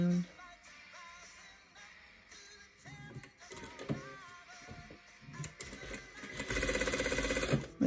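A sewing machine stitches a scrunchie of fabric with elastic and ribbon inside, running in short bursts with pauses for back tacking, then a steadier, louder run near the end; no one talks.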